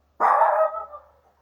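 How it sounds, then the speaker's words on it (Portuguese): A dog gives one loud, close bark that quickly trails off into a short tail, alone against silence. "Mas meu cachorro tá latindo."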